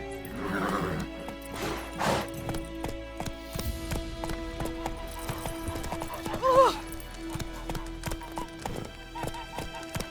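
Horse hooves clip-clopping in The Witcher 3, with a loud whinny and snorts in the middle, the rhythmic steps running throughout while a voice speaks briefly.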